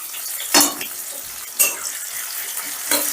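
Chopped onions with cardamom fry in oil in a pan for chicken kosha, a soft background sizzle broken by three brief louder stirring or scraping bursts.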